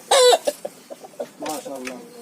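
Chickens at a hobby farm cluck close and loud, starting with a strong squawk and then short, evenly spaced clucks that run into a busier cackle.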